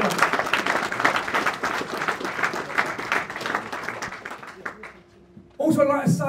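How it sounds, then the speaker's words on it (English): Applause from a crowd at a UCMMA 32 mixed martial arts press conference, a dense steady clatter of clapping that thins and fades near the end before a voice starts speaking. "So give them a massive round of applause to all the fighters who've made it."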